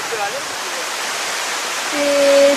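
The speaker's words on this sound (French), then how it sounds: "des grandes cascades comme ça, entourées de tant de verdure, c'est vraiment super" A large waterfall in the Fouta Djallon mountains of Guinea roars as a steady, loud wash of rushing water, with faint tonal whistles rising briefly over it near the end.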